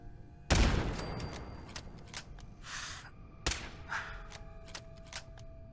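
Sharp .308 rifle shots ring out in Fallout 4, two distinct loud cracks a few seconds apart, with smaller clanks and impact noises scattered between them, fairly quiet overall.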